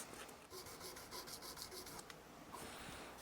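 400 grit sandpaper rubs back and forth along guitar frets in quick, even strokes, a faint, close scratchy rasp with no voices.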